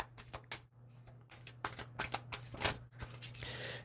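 Tarot cards are shuffled close by in a rapid series of crisp riffles and slaps, ending in a longer rustling burst.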